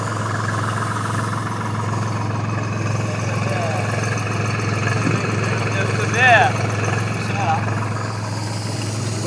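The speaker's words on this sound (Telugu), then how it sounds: "ట్రాక్టర్ పోవాలి ఫ్రెండ్స్" A tractor engine idles steadily nearby in a pigeon pea field, a constant low mechanical drone with a few brief higher squeaks partway through.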